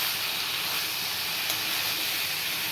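Green chillies tossed into a hot pan and stirred, giving a steady broadband hiss of sizzling oil that stays even and close throughout with no talk.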